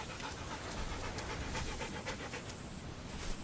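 A wild dingo pants rapidly in quick, steady breaths, close and fairly quiet, with no other sounds over it.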